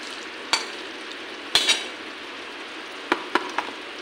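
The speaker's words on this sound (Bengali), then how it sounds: "ধনিয়া পাতাটা মিশিয়ে নিই।" Coriander leaves get stirred into a rohu fish head chorchori as it fries, a low steady sizzle under scattered sharp clinks of a spoon against the pan, close and moderately quiet, with no talking.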